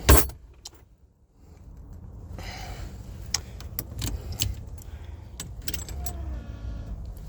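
A sharp clack, then keys jingle and rattle in several quick bursts over a low, steady rumble of a vehicle interior.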